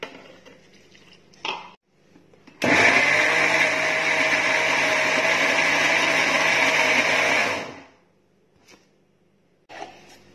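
An electric mixer grinds cake batter made with wheat flour, sugar and milk in a loud, steady whir of about five seconds, set between quieter clinks and handling sounds before and after.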